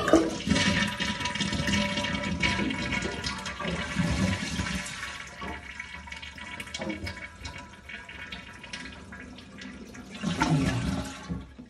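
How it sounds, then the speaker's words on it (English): A toilet with a Fluidmaster flush assembly flushes loudly and close by, a sustained rush and gurgle of draining water for about eleven seconds that surges again near the end as the tank refills. "let's flush it"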